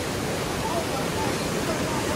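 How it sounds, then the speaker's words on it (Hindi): Cold river water rushing past the hot springs at Manikaran, a steady full-band roar of fast flowing water, close and continuous, with no break. "और यहाँ पे ठंडा पानी बह रहा"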